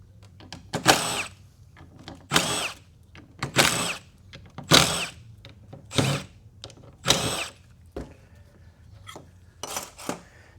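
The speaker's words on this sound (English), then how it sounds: "you'll have to drill both holes out." A power drill bores out holes in a transmission kit plate in repeated short whining bursts, about eight of them spaced every second or so, close and loud with quiet gaps between.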